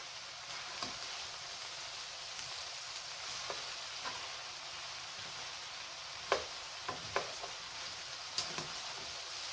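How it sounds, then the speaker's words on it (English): Onions and garlic sautéing in a little oil in a pan, a soft continuous sizzle with a few scattered taps and scrapes of stirring, close and fairly quiet. "So you see, I'm just sauteing it."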